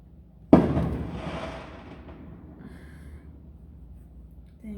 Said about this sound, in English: Excuse the fireworks in the background.